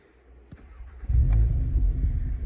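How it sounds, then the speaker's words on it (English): An Audi S3 Sportback TFSI quattro Black Edition with about 34,800 miles starts up: a brief crank, then the engine catches with a loud low rumble that settles into a steady idle, close by. "I'll start the vehicle up."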